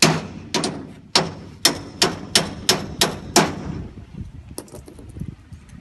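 About eight sharp metallic taps land on an assembly pin, pushing it into place on a climbing wall panel. The hits come in a quick, fairly even rhythm, close and loud, followed by a few softer knocks.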